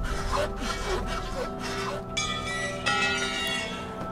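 A hand saw cutting in the survival game This War of Mine, with repeated back-and-forth rasping strokes at a steady rhythm and faint ringing, metallic tones in the background.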